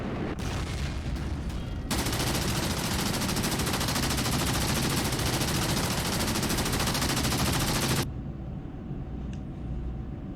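SA-19 anti-aircraft guns in the DCS combat simulator let loose a loud, sustained automatic burst, continuous rapid fire roaring for several seconds before it cuts off abruptly, leaving a quieter rumbling background.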